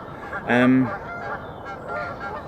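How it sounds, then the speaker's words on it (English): A single loud goose honk rings out close by, followed by fainter honking from other geese in the distance. "Stupid geese."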